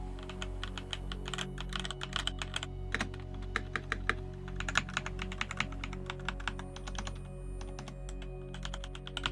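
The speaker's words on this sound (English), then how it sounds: "I also got the switches from Temu, and this is what this sounds like" Rapid clacky typing on a cheap Temu mechanical keyboard fitted with Temu switches, a dense run of sharp key strikes at an uneven pace over a faint steady background hum, with no talking.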